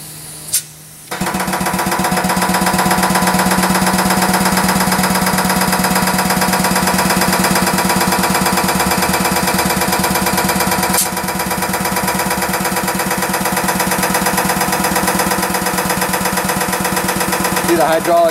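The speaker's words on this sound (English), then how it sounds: "Now going to operate the press here for you." A JWI 24 cubic foot air/hydraulic filter press powers up after a short pause, its pump setting up a loud, steady, rapidly pulsing mechanical chatter that holds constant while building hydraulic pressure.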